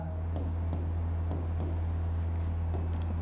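A pen writes on paper with faint, regularly spaced scratchy strokes, set against a loud low electrical hum while a voice speaks.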